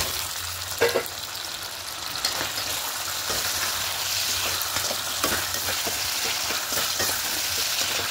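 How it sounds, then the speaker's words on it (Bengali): Fried potatoes are stir-fried in a spiced masala in a pan, a continuous close sizzle broken by repeated scraping spatula strokes and a couple of louder knocks near the start, with no talking. "আলুগুলো দিয়ে একটু ভালো করে কষিয়ে নেব"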